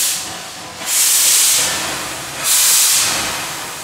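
A 1909 Stanley Steamer steam car clears its cylinders with two loud, close bursts of rushing steam hiss, each swelling quickly and then tapering off.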